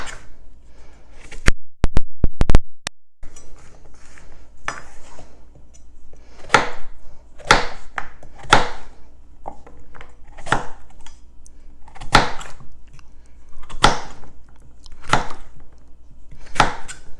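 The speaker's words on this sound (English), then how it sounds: "So you want to cut them in 1/2 inch slices." A knife slices delicata squash into half-inch pieces on a cutting board, a cluster of quick sharp chops followed by steady, evenly spaced single cuts, close and crisp.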